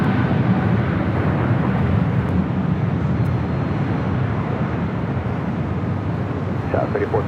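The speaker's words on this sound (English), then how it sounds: "Eva, 777-300ER now rolling down at 25 right" An EVA Air Boeing 777-300ER rolls down runway 25 right at LAX, giving a steady, broad roar of jet engines heard from a distance that holds even and continuous throughout, with no voices over it.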